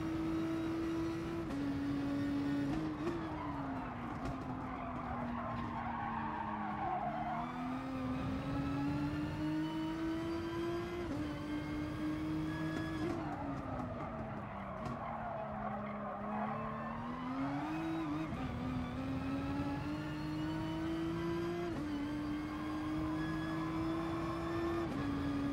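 Race cars in Gran Turismo Sport, including a BMW and a GT-R, roar continuously with engine pitch rising and falling through gear changes, plus bursts of tire skidding and squeal on corners, steady and loud throughout.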